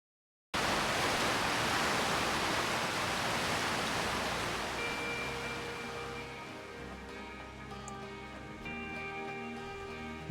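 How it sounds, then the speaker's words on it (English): A very loud, roaring waterfall on Giant's Deep in the video game Outer Wilds, a dense wall of rushing water that starts abruptly and then eases slightly as a faint tonal hum joins in underneath. "Okay, waterfall planet. Check. Very loud waterfall. Check."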